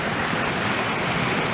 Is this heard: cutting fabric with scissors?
no